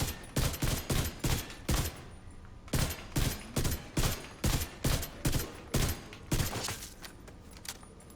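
Full-auto gunfire in The Division 2 rattles out in repeated short bursts of rapid shots with brief pauses between them, loud and close.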